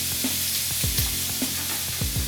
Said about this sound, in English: As this sizzles